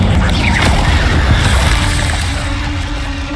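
An Incendio fire spell fires in Hogwarts Legacy on PC as a loud, dense whooshing burst with heavy low rumble, sustained throughout and slowly easing toward the end.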